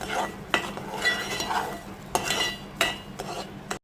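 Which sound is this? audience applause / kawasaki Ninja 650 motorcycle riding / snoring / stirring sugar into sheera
stirring sugar into sheera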